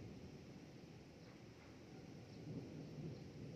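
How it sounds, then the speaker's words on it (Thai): Faint, distant thunder rumbling low and continuous before rain arrives, a soft steady roar swelling slightly toward the end, with no voices. "เสียงฟ้าคำรามนั่นเลย"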